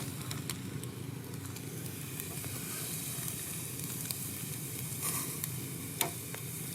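Chicken inasal grilling over an open campfire at night, a steady close sizzle and crackle of fat on the flames with occasional sharper pops, continuous throughout.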